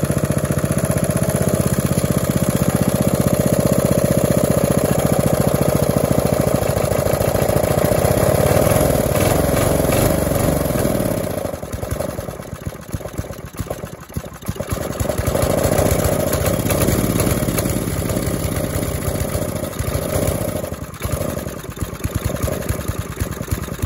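A vintage 3HP Briggs engine runs on full choke, a steady close drone for about ten seconds before the tone roughens and fluctuates as it keeps running unevenly.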